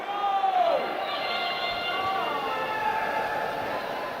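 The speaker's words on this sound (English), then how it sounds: "you can tell because of the crowd cheering" An indoor arena crowd at a FIRST Global Challenge robotics competition cheers and shouts as a match begins, a broad steady roar with rising voices and whistle-like calls throughout, loud and continuous.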